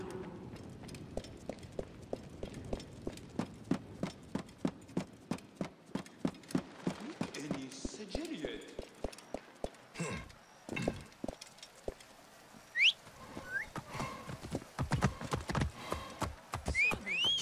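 Horse hooves clopping in a rhythmic gallop-like pattern on ground in the Assassin's Creed Origins video game, steady and fairly close, later breaking up amid other game sounds and some faint whistle-like tones.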